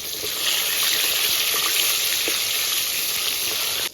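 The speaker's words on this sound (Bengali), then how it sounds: "মাছের এক সাইড ভাজা হয়ে গেছে," Rohu fish sizzles steadily in hot oil in a pan, a dense, even crackle that stays loud and continuous from start to finish with no voices.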